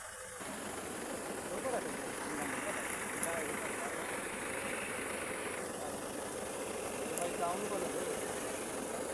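A vehicle crosses a river while its engine runs as a steady, moderately loud idling hum for the whole stretch. Water noise and a person talking run underneath.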